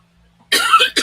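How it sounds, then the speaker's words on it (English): Two sharp coughs from an adult, close to the microphone, after a moment of near-silence; the second burst is short. "Of course, now I'm coughing."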